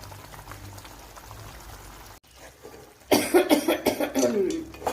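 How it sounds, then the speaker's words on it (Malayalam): Chicken pieces drop into hot oil in a pan for a Mangalore-style chicken curry, setting off a sudden, loud burst of crackling sizzle after a quiet moment. "ഇതിലേക്ക് നമ്മുടെ ചിക്കൻ ചേർത്ത് കൊടുക്കാം"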